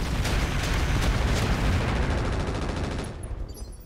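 Centurion mech unleashing precision fire in the RogueTech BattleTech mod, a dense, roaring barrage of weapon blasts that sustains loudly for a few seconds before trailing off, with no talking.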